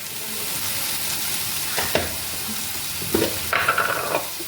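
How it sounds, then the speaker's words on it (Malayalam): Spices, including chicken masala and garam masala, sauté in a hot pan with a steady sizzle, broken by a few louder scraping stirs near the end. No one speaks. "ഗരം മസാല നന്നായിട്ട് വഴറ്റെടുക്കുക നല്ല പോലെ"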